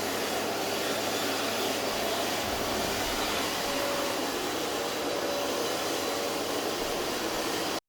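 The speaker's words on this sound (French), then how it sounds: "tu peux allumer l'aspirateur s'il te plaît?" A vacuum cleaner runs steadily throughout, a constant loud broadband whoosh and whine with no pauses and no voices over it, cutting off abruptly at the very end.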